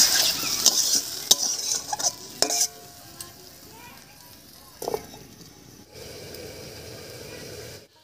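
Prawns being stir-fried kasha-style with chui pepper, masala and potatoes in a pan: close metal spoon clinks and scrapes against the pan at first, then a steady, even sizzle fills the final seconds.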